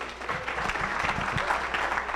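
An audience applauds steadily at a digital marketing event, dense clapping held at a constant level for a couple of seconds with no talk over it.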